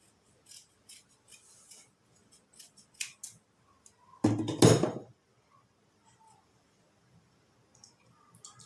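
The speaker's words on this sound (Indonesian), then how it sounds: "santen saset. Yaiku karasan. Kara digunting." Scissors snip open a sachet of packaged coconut milk in a kitchen, one sharp close cut amid faint clicks and handling noises in a quiet room.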